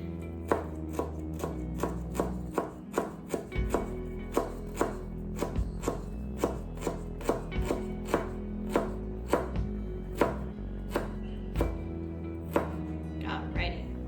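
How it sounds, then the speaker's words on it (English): A knife mincing ginger on a cutting board in a home kitchen, with sharp, close, irregular chops coming in quick bursts and short pauses for about fourteen seconds, without any talking. "so we got our ginger all minced up"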